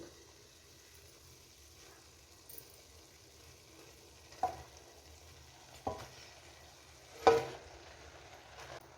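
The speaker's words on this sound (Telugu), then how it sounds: "దీన్ని బాగా కలిసిపోయేలాగా కలుపుకుందాం." Cooked rice is stirred into tomato masala frying in a pan, a faint, quiet sizzle broken by a few sharp scrapes and clinks of the spoon.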